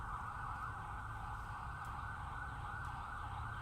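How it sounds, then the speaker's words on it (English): A siren wails in the distance beneath steady low traffic rumble, the tone holding fairly level and faint. "That's police."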